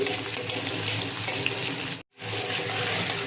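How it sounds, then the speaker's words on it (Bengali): Chopped onion and nigella seeds fry in hot oil with dried red chilli, a steady loud hissing sizzle that cuts out abruptly for a moment and then resumes just as strongly, no voices. "দিয়ে দিচ্ছি কালি জিরে, দিয়ে দিচ্ছি পেঁয়াজ কুচি, দিয়ে একটু ভালো করে ভেজে নিচ্ছি।"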